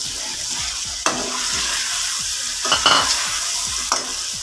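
Tomatoes and vegetables frying in a pan for mixed vegetable rice, a steady close sizzle broken by a few scraping stirs of a spoon against the pan.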